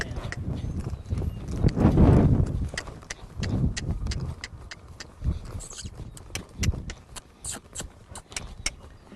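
Hooves of a ridden horse clip-clop in a steady rhythm, close and fairly loud, over low rumbling background noise and occasional sharp clicks, with no talking.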